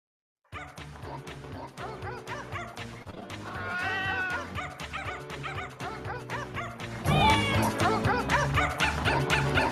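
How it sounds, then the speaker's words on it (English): A Pomeranian yips and barks along with a playing song, several short high-pitched barks and whimpers rising over the music, louder near the end. "The Pomeranian trying to add to the song. A little extra bark in there."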